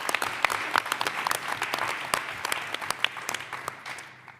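Round of applause from the audience at a mayoral press conference on opioids, a dense burst of clapping with sharp individual claps standing out, tapering slightly at the close.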